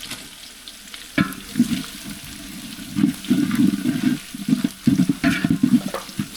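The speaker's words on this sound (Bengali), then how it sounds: "এখন দিয়ে দিচ্ছি কুচানো পেঁয়াজ, এখন দিয়ে দিচ্ছি কুচানো রসুন" Chopped onion and garlic hit hot oil with whole garam masala, cardamom, cinnamon, bay leaf and peppercorns, sizzling and crackling in bursts for a winter vegetable khichuri, with stirring scrapes running close and loud throughout.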